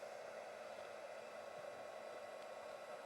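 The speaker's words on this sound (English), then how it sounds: "we'll just quickly heat emboss this" A heat embossing tool blows hot air over embossing powder on a craft project, a steady, even whooshing hiss that holds constant throughout, fairly quiet and unaccompanied by speech.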